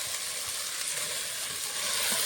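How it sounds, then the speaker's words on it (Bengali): Soaked rice frying in hot oil with spices in a pan for Bengali egg pulao, a steady close sizzle running the whole moment with no talk. "মশলার সঙ্গে আমি একটু চালটা কষাবো।"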